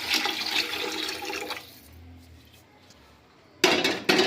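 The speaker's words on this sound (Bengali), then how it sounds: "তো এতে দেখো পরিমাণ করে রাখা জলটা আমরা এতে দিয়ে দিলাম।" Measured water is poured into a pot of rice for spicy chicken biryani: a brief gushing pour, then near quiet, then a short splash and clatter at the end.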